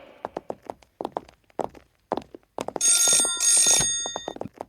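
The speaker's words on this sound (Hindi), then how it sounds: "Madam phone." A telephone bell rings in two short bursts midway through, following a run of sharp footsteps and knocks, in a scene from a dubbed Indian action film.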